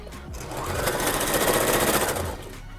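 A sewing machine stitches a hem on a pants leg, its rapid mechanical chatter speeding up to a steady whir and then slowing to a stop, heard close and alone.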